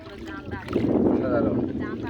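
A small wooden dinghy glides through the flooded swamp forest at Ratargul, Sylhet, with soft swishing and lapping water and faint wind rumble, while people talk over it.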